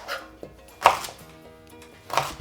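A knife chops through firm celeriac on a cutting board, cutting chips with three separate thuds spaced out, close by with no talking.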